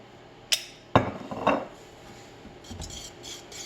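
A few sharp clinks and scrapes of a utensil against a bowl as vanilla is stirred into Christmas pudding mixture, three distinct knocks early, then softer rubbing and tapping toward the end.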